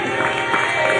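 A studio audience on an Indonesian TV talk show gives a brief, dense burst of applause and cheering.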